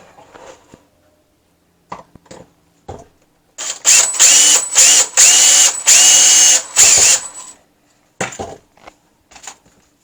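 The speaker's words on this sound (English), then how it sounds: "hand drill." A hand drill bores a pin hole through a knife blade and its handle scale, giving several short whirring bursts followed by a longer run of loud, high-pitched grinding, then a few more quick spurts.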